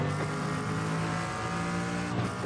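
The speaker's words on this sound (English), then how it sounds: "There's a faster car approaching." A race car in the iRacing sim racing game, a faster car approaching during a Monza or Watkins Glen race, with a loud sustained engine whine and buzzing revs dominating close up for the whole moment.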